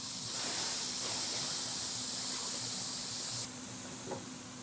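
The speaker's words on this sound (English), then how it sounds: "now what we'll do is we'll give them another spray" A hand sprayer mists ribs on a pellet grill, giving a continuous close hiss over the faint hum of the grill's fan. The spray cuts off near the end, leaving the softer background hum.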